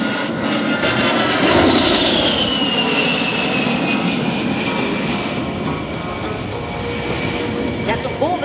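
An A-10 Warthog jet flies at an air show, a loud, steady roar with a whining turbine tone that dominates throughout while a commentator talks over the public address.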